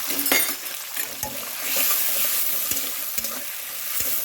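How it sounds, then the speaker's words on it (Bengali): Potatoes sizzle in hot oil with a steady bright hiss, broken by several sharp clinks and scrapes of a utensil stirring the pan. "আলুটা একটু আগে হালকা ভেজে নিলাম"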